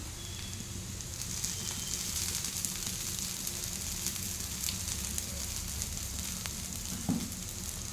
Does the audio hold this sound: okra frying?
yes